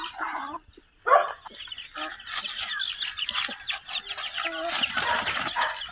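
Chickens cluck close by in repeated bursts, with a dog barking at times amid a noisy outdoor background.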